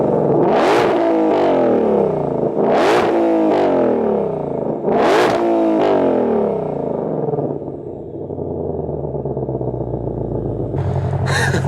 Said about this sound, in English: let's go ahead and turn track mode exhaust on. Let's get you some revs here